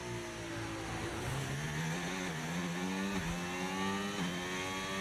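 A racing video game engine drones loudly and continuously, its pitch climbing and dropping in repeated waves as the vehicle speeds up, shifts and accelerates again, with no talking over it.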